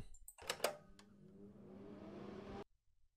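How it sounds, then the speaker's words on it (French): In the game Keep Talking and Nobody Explodes, a kitchen range hood fan whirs up after a couple of clicks, a steady humming drone that runs for about two seconds before cutting off abruptly. "ça c'est le bruit d'une hotte aspirante en fait"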